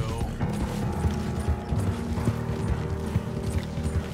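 Hooves of a horse clatter in Red Dead Redemption 2, a close, busy clip-clop of irregular thuds mixed with creaking tack and movement noise, no talking over it.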